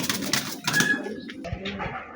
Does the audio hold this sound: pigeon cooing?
yes